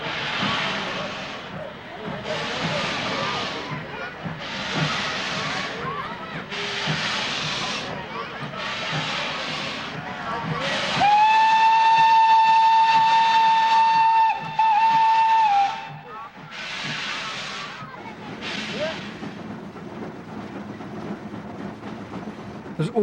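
Steam locomotive working close by, with regular bursts of hissing steam, then a loud, steady whistle sounding for about five seconds before the chuffing returns.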